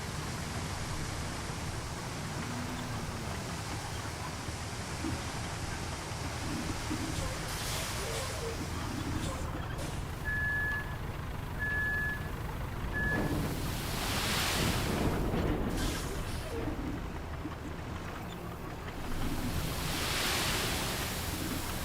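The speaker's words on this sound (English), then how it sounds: "I wish the sand would just pour out at an even pace." A truck in the RoadCraft video game unloads its sand load in a steady, rushing stream of noise that runs through the whole stretch, with a few brief beeps partway and a voice talking over it.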